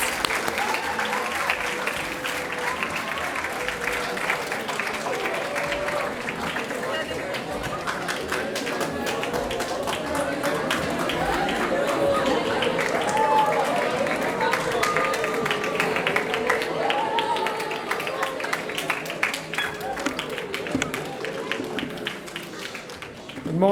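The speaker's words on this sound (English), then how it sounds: "Let's welcome him with a round of applause." Applause welcoming a guest speaker at a morning school event in Downtown Doral: a long, steady round of clapping from a moderate crowd, some individual hand claps standing out, with murmured voices underneath.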